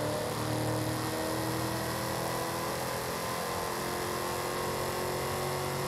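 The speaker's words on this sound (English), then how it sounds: "I'm gonna try revving it to 6." A car engine in Forza Horizon 5 holds a steady high-rev drone, a constant loud buzzing hum with little variation and no pauses.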